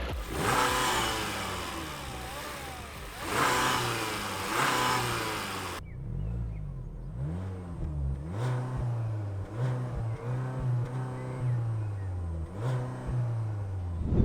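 A 2018 VW Golf GTE plug-in hybrid with a 1.4 TSI 204 HP engine revs repeatedly, rising and falling in pitch at close range, with steady mid-pitched engine drone between the blips and no talking.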